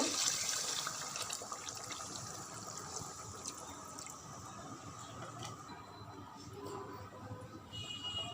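Water poured into a simmering pan of tel koi fish curry, a steady soft splashing and sizzling wash that runs evenly throughout at close range, with no talking.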